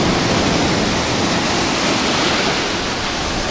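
Sea waves breaking on a beach in Turkey, a steady, loud wash of surf filling the whole stretch without pause, alone with no voices over it.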